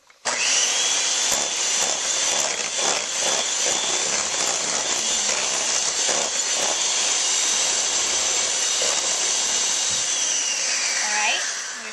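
A stand mixer runs steadily with a loud, close whir while batter ingredients are added a little at a time to the bowl, continuous from start to end with faint clatter and a brief dip near the end.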